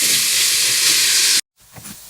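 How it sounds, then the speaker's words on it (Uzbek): Meat and onions fry in a pan with a loud, steady hiss and sizzle that stops abruptly, leaving faint kitchen noise. "Mana go'shtim bilan piyozimni qovurishni boshladim."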